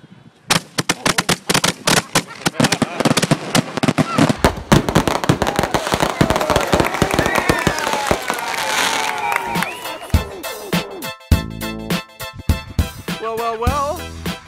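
Consumer fireworks and firecrackers bursting at a New Year's celebration, a rapid loud barrage of cracks and bangs that thins out toward the end, with a crowd cheering and people talking over it.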